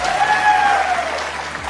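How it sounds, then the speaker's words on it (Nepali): An audience claps together in steady, continuous applause at a song performance, fairly loud and close, with a faint tonal sound drifting over the clapping. "अझ अडियन्स ताली चाहिँ बजाउनुपर्छ"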